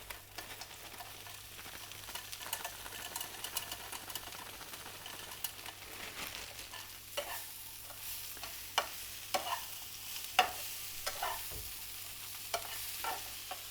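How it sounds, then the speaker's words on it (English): Frozen peas going straight from the freezer into a hot pan for vegan paneer, giving a steady sizzle with scattered crackles and stirring scrapes throughout, close and moderately loud with no talking. "So these can go straight from the freezer into the pan."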